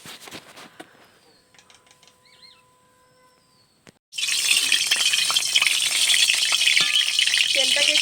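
Fish and vegetables frying in oil in a wok: scattered clinks and soft kitchen noise for about four seconds, then a loud, dense sizzle bursts in and holds steady with occasional scraping stirs.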